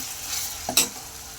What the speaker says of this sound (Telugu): టమాటాలు ఇట్లా వేగిపోవాలండి కనిపించకుండా.